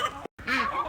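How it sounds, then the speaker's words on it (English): Backyard chickens coming running in the rain give a short burst of throaty clucking and gobble-like calls, close by, broken by a brief silent gap. "So chickens aren't too happy, but they're coming running because they think mommy has treats."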